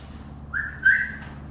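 A person whistles two short, rising notes to call a cat in a workshop, clear and close against a quiet background hum.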